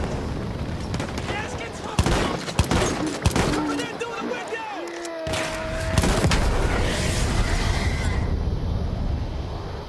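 Shotgun fire in a war video game: heavy, rapid bursts of shots and deep booms fill the scene, with gliding tonal effects running beneath the gunfire.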